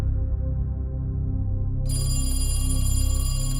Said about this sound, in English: The phone rings in the kitchen